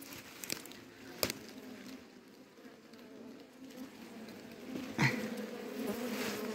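Honey bees swarm around a hive in the open. A faint, steady buzzing hum continues under brief knocks and rustling handling noises.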